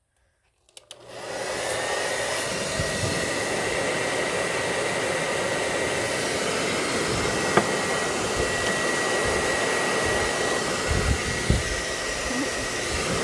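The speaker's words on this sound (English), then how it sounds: "we're actually going to use the blow dryer on the top of the candle, so we get that little bit of the top of the candle wax to melt without lighting the wick" A hair dryer blows onto the top of a candle to melt the wax. It switches on after a brief silence, then gives a loud, steady, close rushing roar that lasts throughout with no talk.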